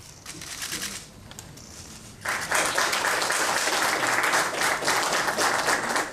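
Light clapping and camera shutter clicks at an official agreement signing between the United States and Chile swell into fuller, sustained applause after about two seconds.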